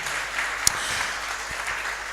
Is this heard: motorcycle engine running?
no